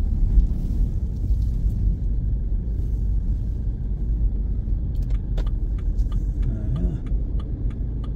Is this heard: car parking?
yes